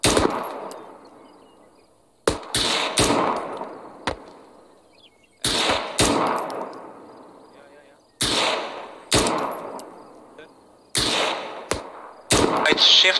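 Arma 3 weapons fire during jungle infantry section training: sharp bursts of several shots every couple of seconds, each ringing out with a long echoing decay, loud and with nothing else between them.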